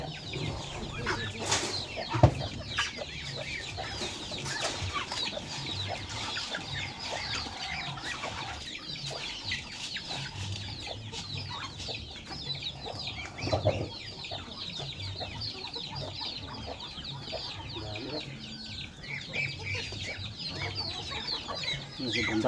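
Chickens cluck intermittently on a farm in the Philippine countryside, where ducks are also raised, with steady broadband outdoor noise and occasional louder squawks close by.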